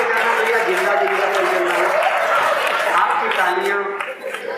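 A live audience at a Hindi comedy and satire show claps loudly and densely, with crowd voices and murmuring mixed in, tapering off near the end.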